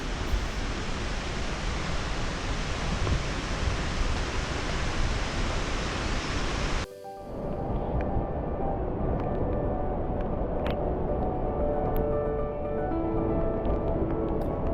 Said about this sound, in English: we can also hear the waterfall